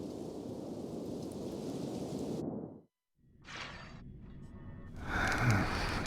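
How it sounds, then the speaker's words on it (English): Steady broadband rain from the Honkai: Star Rail video game fills the first half, drops into a brief silence, then returns softer with a faint voice and swelling noise near the end. "You're lucky to have found shelter from the rain."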